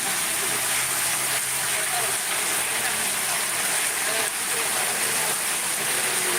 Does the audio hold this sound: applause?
no